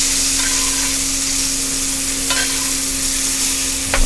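Filet mignon steak sizzles loudly and steadily in a pan while being basted in its own juices, a dense continuous crackle with a faint scraping clink near the end.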